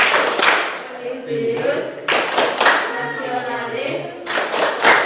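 A school class performs the rhythmic PPK clap in an Islamic studies lesson, with sharp bursts of group clapping interleaved with chanted words and a teacher's voice.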